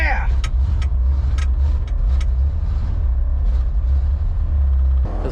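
A 1964 International C900 truck engine idling and warming up on choke: a loud, close, steady low rumble throughout, with brief clanks and knocks on top.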